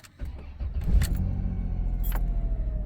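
A 1997 Dodge Caravan LE with over 243,000 miles cranks briefly with a faint key jangle and fires right up, settling into a close, steady idle rumble.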